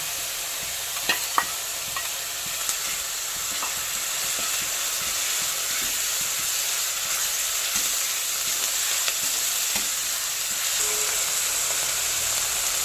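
Garlic, ginger and green chili paste fries in hot oil for a dhaba-style okra dish, a steady close sizzle and hiss with a few sharp clicks and stirring taps early on and a faint higher tone near the end.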